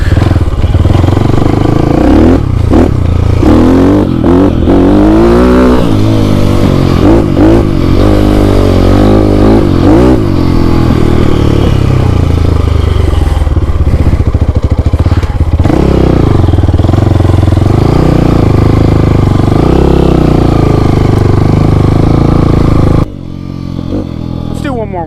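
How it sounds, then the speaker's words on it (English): A GPX motorcycle engine revs and surges repeatedly while riding, loud and close with rising and falling pitch, wind and clatter mixed in, and a rider's voice talking over it at times before it drops off abruptly near the end. "Let's do one more wheelie."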